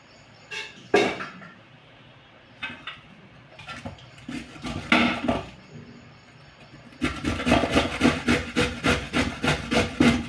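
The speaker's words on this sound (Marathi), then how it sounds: "अशा प्रकारे आपण हे इथे किसून काकडी." A cucumber is rubbed against a kitchen grater in uneven bursts of rasping strokes, then a fast, steady run of rhythmic scrapes, close and fairly loud.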